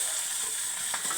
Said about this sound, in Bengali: পেঁয়াজটা লাল করে ভেজে নিয়েছো না?